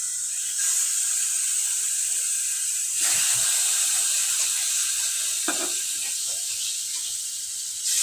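Silver carp pieces coated in mustard oil sizzle on a hot nonstick tawa, a steady close frying hiss with a louder burst of crackle partway through as more fish pieces are laid down, and no talking.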